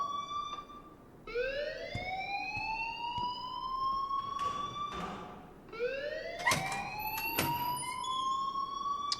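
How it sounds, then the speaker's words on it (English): A high-school fire alarm in the video game Life is Strange wails in repeated rising whoops, loud and continuous, with sharp electronic clicks and bursts over it. "please turn off that alarm since that's your job"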